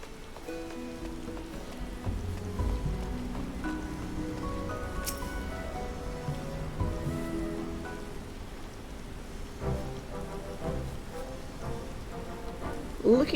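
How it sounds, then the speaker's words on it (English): Rain falling all night in Idyllshire in Final Fantasy XIV, a continuous patter on surfaces under low background music, steady and moderately loud with no speech. "It's just gonna rain all night here."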